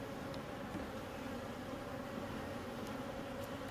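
Honey bees swarm and hum around an opened hive during queen cage removal, a steady dense buzzing drone that stays close and even throughout, with no voices.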